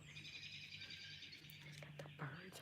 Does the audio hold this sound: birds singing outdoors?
yes